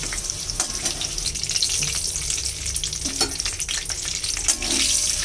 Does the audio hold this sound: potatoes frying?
yes